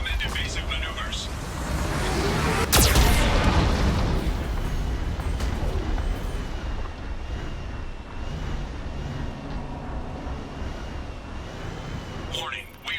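One abrupt blast from a Geth cannon in the video game Mass Effect 2 strikes near the start and fades into a long, low rumbling roar, with game speech around it.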